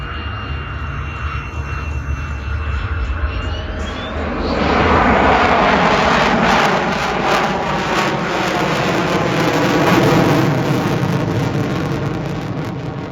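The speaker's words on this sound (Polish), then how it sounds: "Przed Państwem F-16 i Muscle Climb." F-16 fighter jet doing a muscle climb at the Leszno air show, a loud jet roar that swells into a powerful rumbling blast as the aircraft pulls up, heard from the ground at some distance.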